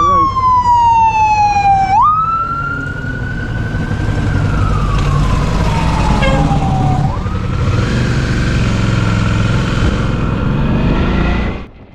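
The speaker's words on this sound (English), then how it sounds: "Here comes the fire truck." A fire truck siren wails loud and close on a road near Little Tujunga Canyon, its pitch sweeping down and rising again over a rumbling engine for the whole stretch.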